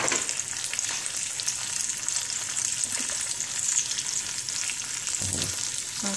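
Pork chops frying in a pan, a steady bright sizzle and crackle running unbroken with small pops and a faint clunk near the end, no talking.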